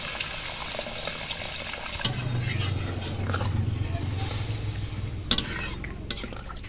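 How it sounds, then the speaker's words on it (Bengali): A low bubbling simmer of curry gravy with taro runs under soft stirring scrapes and a couple of sharp clicks, with gentle kitchen background noise. "ঝোলটা ফুটছে এবার মাছ দেবো"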